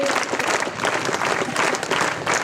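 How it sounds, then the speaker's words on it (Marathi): A crowd at a police anti-addiction awareness event claps in steady, dense applause that stays loud throughout. "तुमच्यासाठी एकदा टाळ्या वाजवा"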